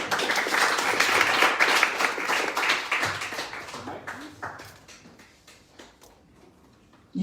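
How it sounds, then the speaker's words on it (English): Applause at an elevator-pitch event, dense at first, then thinning into a handful of sparse individual claps that taper off to near silence. "So please, big applause for Nicole Pev and Unboxd."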